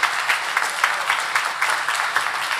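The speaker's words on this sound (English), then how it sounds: "one more round of applause for our candidates" A council candidate forum audience gives a round of applause, a dense steady clatter of many hands clapping close by throughout, with no talk over it.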